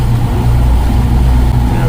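Yamaha outboard motors on a boat idling along at about 1,200 RPM, a loud steady low drone with water rush, close and continuous.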